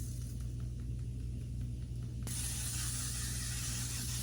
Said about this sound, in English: I have the L'Oreal Infallible Setting Spray